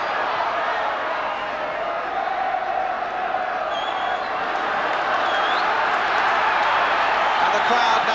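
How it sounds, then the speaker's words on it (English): Football crowd at a 1973-74 Crystal Palace versus Middlesbrough match, a steady broad roar of cheering and clapping filling the stadium throughout, with a commentator talking over it. "And the crowd now beginning to get behind this Palace side."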